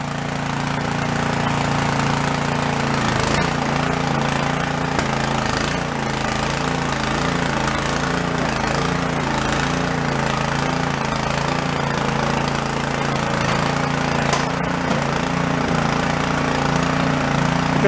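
A garden tiller engine, bought at a yard sale, runs steadily with a loud continuous mid-range drone and a choppy throb, the motor held near and constant for the whole stretch.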